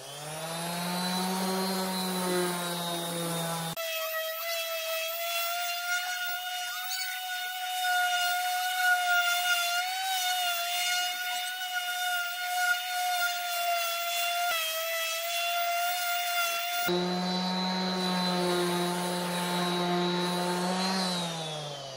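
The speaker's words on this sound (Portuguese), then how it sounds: "agora para finalizar, vamos usar uma lixa" A wooden bench table built from scrap wood is sanded with 180-grit sandpaper: a continuous droning machine hum runs throughout, its tone shifting as pressure on the wood changes midway, with no talking.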